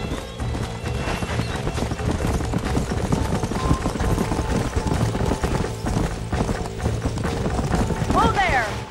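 Hooves of horses clip-clop in a steady, continuous rhythm at close range in the video game Red Dead Redemption, with a horse whinnying near the end and faint voices in the background.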